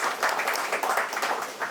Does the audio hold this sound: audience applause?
yes